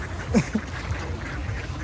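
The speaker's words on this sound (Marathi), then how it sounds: "एवढी बदकान ती राहतात कशी एवढ्या थंड पाण्याने काय माहिती" Ducks on a cold lake in Kirov, Russia give a couple of brief quacks, fairly faint over a steady outdoor wash of background noise.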